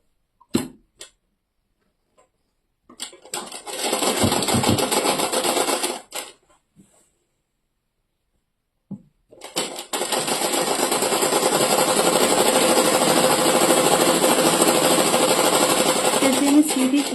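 Sewing machine stitching a straight seam on pajama fabric, with a few brief clicks, then one run of a few seconds and a longer steady whirring run that is loud and close, no talking.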